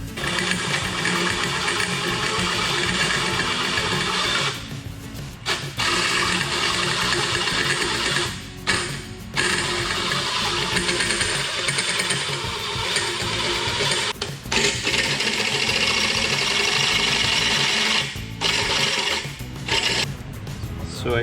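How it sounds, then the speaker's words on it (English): A hole saw cuts through a metal pipe for a blow-off valve flange on a Ka24det-swapped 240sx S14, making a continuous high whirring grind broken by several short pauses, loud and near. "So I got this gaping hole drilled right here"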